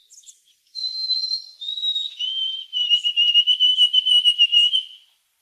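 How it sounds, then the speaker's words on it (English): A white-throated sparrow sings the western North American version of its song, clear pure whistled notes stepping down in pitch and ending in a rapid series of repeated notes, heard alone against silence. "the Western song sounds like this"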